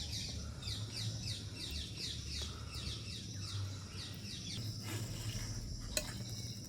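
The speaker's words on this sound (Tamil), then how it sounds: "அப்படியே முட்டையை ஊற்றி விடுவேன்." Egg poured onto a dosa sizzles steadily on the hot pan: a continuous close fry crackle, with bird chirps and squawks repeating in the background.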